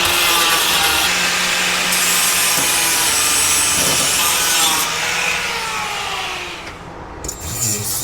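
An angle grinder scuffs sheet metal on a 1962 pickup truck to prep it for primer, a loud continuous abrasive grinding roar that runs close up for most of the time before tapering off near the end.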